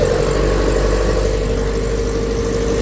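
A boat engine runs at a steady drone close by, a constant low hum with a strong mid-range tone that stays unchanged throughout, with no voices over it.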